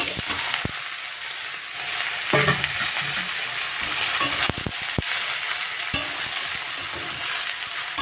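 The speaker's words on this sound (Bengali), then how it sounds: "পেঁয়াজটা ভাজা ভাজা হয়ে গেছে এখন আমি এটা দিয়ে" Onions frying in oil in a pan, a steady close sizzle with occasional stirring clatter and scraping, no talk.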